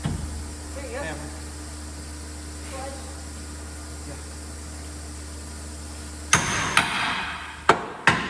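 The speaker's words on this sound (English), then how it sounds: "There you go. Hammer." A hammer strikes metal during roadside repair of a broken-down four-axle Peterbilt truck, four sharp loud clanks near the end, after a stretch of quiet low rumble with faint voices.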